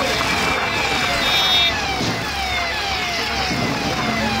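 A siren fitted to an auto rickshaw to mimic an ambulance wails in rising and falling sweeps through steady road traffic noise, fairly loud and continuous throughout.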